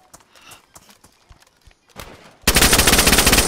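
Rapid automatic gunfire in a survival video game bursts in suddenly after a couple of seconds of faint scattered clicks and thuds, then continues as a loud, close, dense stream of shots to the end.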